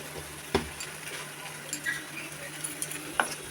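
Banana blossom chop mixture with rice flour and salt being mixed into a batter in a bowl, giving soft wet stirring with a couple of sharp clicks, close and quiet, without talk.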